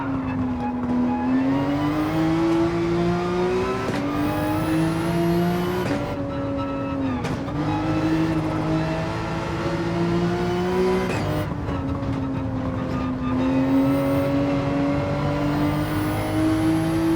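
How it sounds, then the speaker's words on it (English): Race car engines at full throttle in a World Touring 800 race at the Nürburgring in a racing video game, loud whining revs that climb steadily and drop sharply at each gear shift, repeating continuously. "Now they're all full on gas, running at their peak performance."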